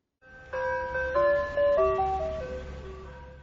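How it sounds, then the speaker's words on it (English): Jingle from an ice cream truck in a children's vehicle video game: a clear, bright melody of electronic chime notes stepping up and down, loud and close, with a low motor rumble beneath. "Ice cream truck."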